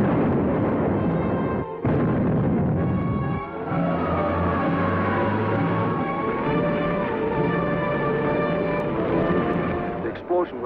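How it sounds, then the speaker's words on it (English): Explosion sound effect from a 1951 sci-fi serial, a loud sustained rumbling blast that fills the whole stretch, with brief dips and vintage music-like tones running through it. "The explosion was felt throughout this area."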